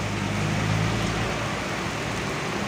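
A dense, steady hiss of heavy rain, continuous and loud, with a low rumble underneath throughout.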